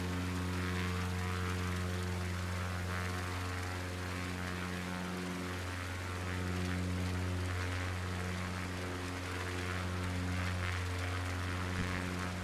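A propeller airplane engine drones steadily in flight, a loud, even, continuous hum with strong tonal harmonics that holds throughout without voices.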